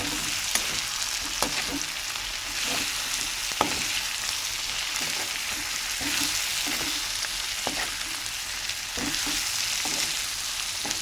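Ivy gourd and tomato curry stirred in a pan, a steady close sizzle of frying with repeated soft scrapes and knocks of the spoon throughout, no talking.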